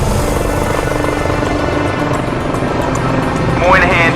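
A news chopper flies overhead as a continuous loud rotor and engine roar that masks a voice talking over it.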